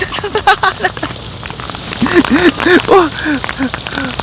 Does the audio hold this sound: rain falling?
yes